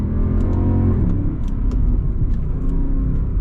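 A Mercedes CLK63 AMG Black Series engine runs steadily with a deep, throaty rumble, rising briefly in pitch as it revs, close and loud throughout.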